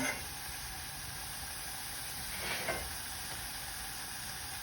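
Tomatoes hit hot oil in a big pot and set off a steady, broad sizzle that runs the whole way through at a fairly even level, with a slight swell near the middle and no talking.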